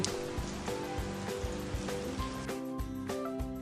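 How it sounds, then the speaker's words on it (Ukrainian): Steady rain hisses continuously at low volume beneath gentle background music. "Так шумить дощ"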